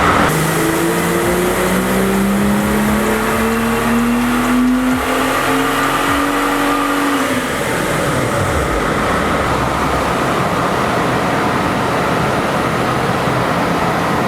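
A BMW F30 340i with the B58 engine fitted with an MST intake revs hard on a dyno, its loud engine note rising steadily for about seven seconds before the throttle lifts and it winds down into sustained roaring noise.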